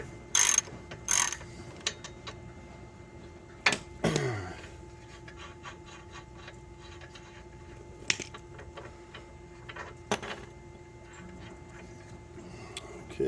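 A hand ratchet backing a nut completely off a bolt, quick bursts of close clicking followed by sparse ticks and a couple of louder clanks, with no talk over it.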